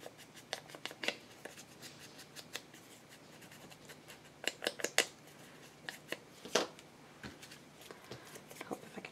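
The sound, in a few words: tearing off a piece of paper for crafting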